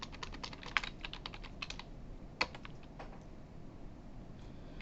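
Fingers tap quickly on a computer keyboard in a quiet room, a steady run of light clicks with a couple of sharper key strikes, close and alone with no talking.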